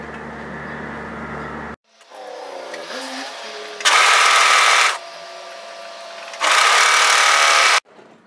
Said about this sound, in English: we're going to overlock serge through that seam